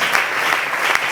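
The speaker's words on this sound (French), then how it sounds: "On acclame le Seigneur." Congregation at a healing and deliverance church service applauding, a steady wash of clapping hands with a few louder claps rising from the crowd, close and continuous with no voices standing out.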